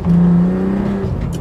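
A VW Mk4 Golf R32 engine revving while driving, heard from inside as a loud, rising engine drone that holds a steady pitch and then fades slightly, without speech.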